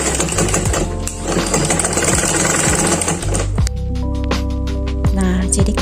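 A sewing machine runs steadily as it stitches fabric for a simple baby dress, a loud continuous rapid needle chatter with a motor hum that briefly shifts pace partway through.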